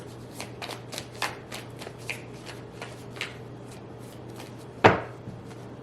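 A tarot card deck is shuffled up close, giving a quick run of light riffling card flicks that thin out, followed by one sharp tap as the cards settle, with no talking over it.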